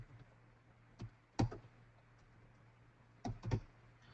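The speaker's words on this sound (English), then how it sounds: "So if I was to type in major," A few faint, scattered keystrokes on a computer keyboard, two quick pairs of clicks, entering a search into document-capture software over a low steady hum.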